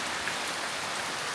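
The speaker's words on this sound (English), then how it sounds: "Yeah, but the rain is really heavy." Heavy rain pouring steadily outdoors, a dense continuous hiss of drops hitting surfaces, loud and unbroken throughout.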